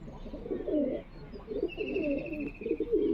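A pigeon coos close by in repeated throaty bursts, with a brief pause near the middle before the low rolling calls resume.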